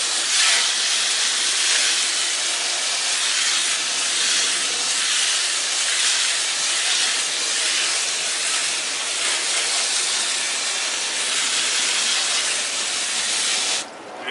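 Water from a sink tap sprays in a steady, loud hiss over an aquarium filter cartridge propped on the side of the sink, running unbroken for the whole stretch before cutting off at the end.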